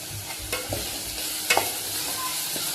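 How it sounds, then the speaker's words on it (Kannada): Green chilies fry in oil in a pan for a Kannada-style chili palya, a soft steady sizzle with a few clinks and scrapes of stirring, close and moderately quiet, with no talking. "ಇವಾಗ ಇದೆಲ್ಲ ಚೆನ್ನಾಗಿ ಎಣ್ಣೆ ಬಿಟ್ಕೊಂಡು ಫ್ರೈ ಆಗಬೇಕು"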